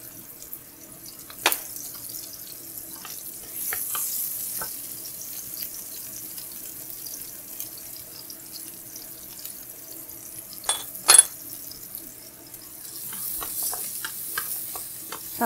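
Scallions and garlic stir-fry in oil, a faint steady sizzle with a few sharp spatula clacks and scrapes, no voices.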